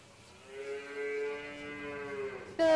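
A dairy cow on a cattle farm gives one long, drawn-out moo that swells and holds steady, then breaks into a louder, harsher bellow at the very end, close by and alone.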